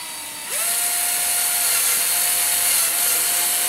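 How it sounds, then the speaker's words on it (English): A small drill whirs up and runs steadily, its motor whine holding under a grinding, rasping bite as it cuts through a plastic Coca-Cola bottle cap. "we just drill a hole right through the cap"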